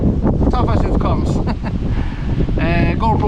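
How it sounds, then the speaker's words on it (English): Strong wind buffets the microphone outdoors on a cold day, giving a loud rumbling roar throughout, with a person talking over it. "God, it's windy and it's cold."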